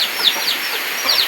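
Farm chickens cluck in a rural hillside yard on a rainy, windy evening, several short clucks close by in quick succession over steady background hiss.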